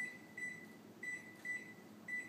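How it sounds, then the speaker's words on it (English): A kitchen oven timer being set, giving a series of short electronic beeps in an irregular rhythm of about five chirps, near and fairly quiet with no talk. "and set the timer."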